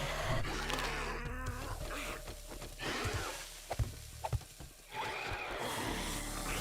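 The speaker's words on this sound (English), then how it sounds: "Wait, bees can go through solid earth?" Buzzing of bees in the survival game 7 Days to Die, a dense insect drone with scattered game sounds, steady and fairly loud throughout with a brief dip near the end.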